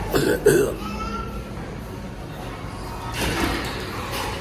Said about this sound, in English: That kid just coughed